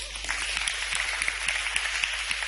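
A crowd applauds steadily, dense overlapping claps at an even loudness throughout, with no voices over it.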